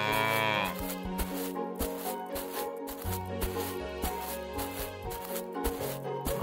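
A cow moos loudly in drawn-out, droning calls that carry on throughout, with other steady farmyard sound layered underneath.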